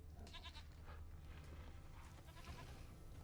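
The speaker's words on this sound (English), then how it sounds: "I think the biggest clue is the sound of a goat nearby." A goat bleats nearby in The Witcher 3: Wild Hunt, a few short wavering calls over a low steady background.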